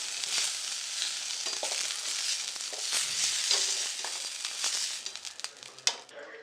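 Onion and garlic fry in a pan for paneer masala in a home kitchen, giving a close, steady, dense sizzle with a few sharper spits and clinks near the end.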